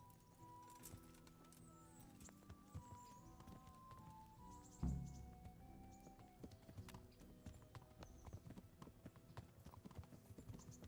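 Horse hooves in Kingdom Come: Deliverance clip-clop in an uneven walking rhythm at moderate distance, with one louder thump midway and faint game ambience beneath.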